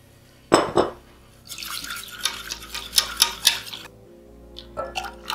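Coffee is poured and stirred into a pot of chocolate cake batter taken off the heat, giving a short splash followed by a run of soft scraping, clinking stirring strokes, close and quiet, with no talk.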